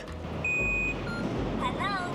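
A rental bike dock gives a short electronic confirmation beep, followed by a warbling chime, over a steady low hum of nearby traffic or machinery, in Singapore.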